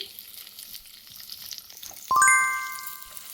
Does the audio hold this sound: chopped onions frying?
yes